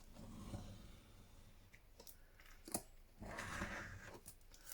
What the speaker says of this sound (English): we're just going to cut our card in half.